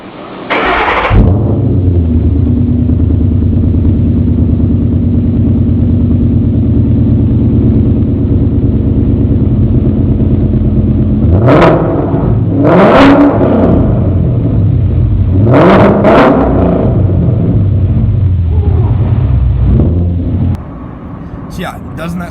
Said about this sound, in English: There's a 2011 Mustang with American Racing headers, off-road X-pipe, and Magnaflow catback exhaust.